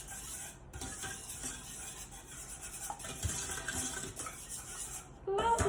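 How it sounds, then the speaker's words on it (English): Sweetened condensed milk being whisked into a warm flamingo mirror glaze in a bowl: steady close scraping and swishing of the whisk against the bowl, with a few louder clinks near the end, no one speaking. "Keep whisking."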